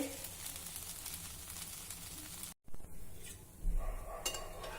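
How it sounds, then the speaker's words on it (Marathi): A fasting dosa (dhirde) roasts on a hot pan with a soft, steady sizzle, faint and close, briefly cut off midway before the quiet frying resumes with a few light clinks. "आता खालच्या बाजूने देखील आपल्याला हे मस्त भाजून घ्यायचं आहे"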